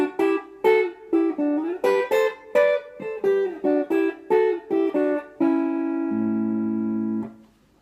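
Guitar playing the opening phrase of a song in thirds, a bouncy run of clean plucked double-stops ending on a long ringing chord, close and alone.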